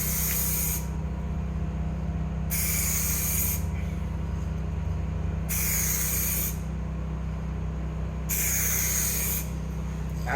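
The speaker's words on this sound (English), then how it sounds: "then you spray Klear on it" Aerosol clear coat sprayed onto a sanded car headlight in four separate hissing bursts of one to two seconds each, separated by pauses, over a steady low background hum.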